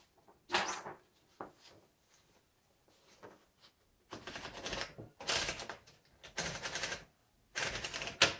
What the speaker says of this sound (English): let's go ahead and type on this and see how it works